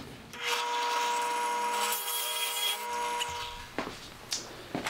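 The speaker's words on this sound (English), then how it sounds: "we're gonna cut a hole with a 1-inch Forstner bit" A 1-inch Forstner bit bores a hole into a wooden cabinet panel, a steady loud drilling whine with rasping wood cutting for about three seconds, then it spins down and a few light knocks follow.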